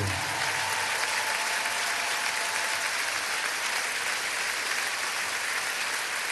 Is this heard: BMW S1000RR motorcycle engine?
no